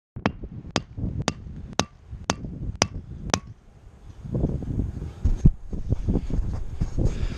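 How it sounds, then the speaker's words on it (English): A homemade welded knife hammer strikes metal in seven sharp, evenly spaced ringing blows, followed by a stretch of rustling handling noise and scattered softer knocks. "Let's test the knife hammer."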